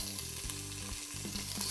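Pork pieces browning in small batches in an Instant Pot for carnitas, giving a steady, close crackling sizzle with faint shifting and stirring beneath it, no voices.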